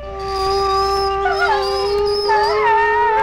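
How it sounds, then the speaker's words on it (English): A wolf gives a sustained, loud, tonal howl that holds a steady pitch and then wavers and bends in overlapping layers, as if more than one animal joins in. "He whimpers and growls and barks and howls."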